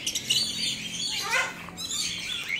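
Birds at the Yelagiri bird park chirp and squawk close by in quick, bright bursts, with a brief flutter of wings, over a low background hum.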